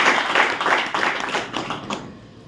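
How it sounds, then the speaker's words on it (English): A club audience gives a short burst of applause at a meeting, with scattered clapping that fades out within a couple of seconds. "a round of applause for her"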